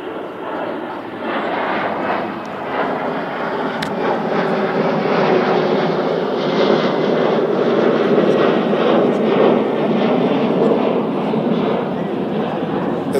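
A fixed-wing airplane passes overhead during an outdoor press briefing, a loud continuous engine roar that swells slightly and holds for over ten seconds, drowning out the background.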